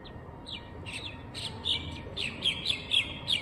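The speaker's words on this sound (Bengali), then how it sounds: "কি সুন্দর পাখির আওয়াজ, চারিদিকে শান্ত পরিবেশ।" Birds around the 108 Shiv temple at Kalna, Bardhaman, chirp in quick repeated high tweets that grow livelier toward the end, heard clearly over quiet background hiss.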